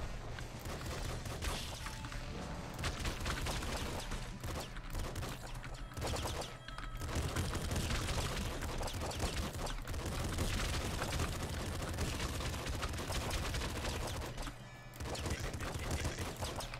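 Rapid, nonstop gunfire from bullet weapons in the top-down shooter game Nuclear Throne, played as the dual-wielding Steroids, forms a dense, loud barrage of overlapping shots with only a few brief gaps.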